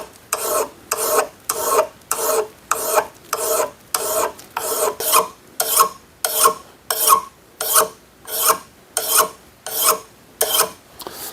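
Steady rhythmic rasping of a file stroking the edge of a Utica Bell System cable splitter, about twenty even back-and-forth strokes, close and clear with no talk.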